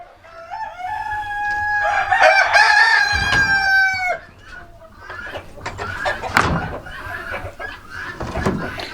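A rooster crows loudly nearby, followed by several chickens clucking and calling close by, in a farm chicken coop in December after heavy rain.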